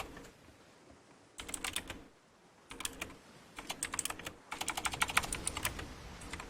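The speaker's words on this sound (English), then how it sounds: "Yeah, I'm typing." Typing on a computer keyboard comes in quick bursts of clicky keystrokes separated by pauses, growing busier toward the end, close and fairly quiet with no talking.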